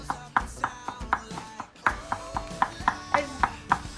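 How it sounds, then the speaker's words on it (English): A knife finely minces raw garlic on a cutting board for cioppino, producing a steady series of sharp, close chops in a regular rhythm, with a short pause partway through before the chopping resumes. "So the raw garlic, you really want to make sure that you chop very fine"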